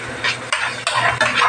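Spanish paprika being stirred into a dish in a pan, three or four quick scraping strokes of a spoon over a soft sizzle, close and fairly loud.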